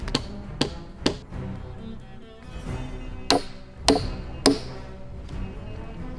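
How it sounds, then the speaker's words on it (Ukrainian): Someone drives a nail into a wooden post while building a treehouse, seven sharp hammer strikes at uneven intervals, some ringing brightly, close and loud with no talking. "заганяємо ще один цвях у стовпчик"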